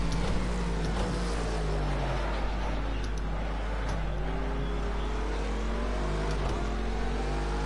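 GT3 race cars lap Ruapuna Park in Project Cars 2. Engines drone continuously, with pitches sweeping up and down through gear changes as several cars run close together, loud and steady from start to finish.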